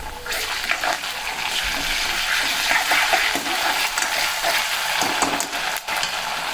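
Onion and green chili fry in a pan for a spiced potato bhaji, a dense continuous sizzle with occasional stirring scrapes, close and fairly loud with no speech.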